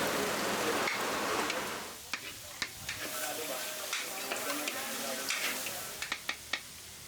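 Garlic and sliced beef innards sauté in a hot pan with a steady sizzle, broken by repeated sharp clinks and scrapes of stirring.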